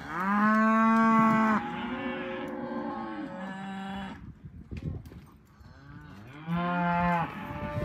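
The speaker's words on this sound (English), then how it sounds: "I'm letting the cows go by me, and then the calves will come into the alley where I'm standing" Cattle on a ranch give several long, loud moos close by, with a quieter stretch of shuffling livestock between the calls.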